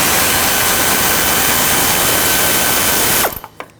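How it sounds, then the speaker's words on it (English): A power tool whirs loud and continuous while backing out a 10mm bolt on a 2009-2014 Ford F-150 front bumper cover, then stops abruptly near the end, leaving a few faint clicks. "So I'm going to remove this 10mm bolt right here."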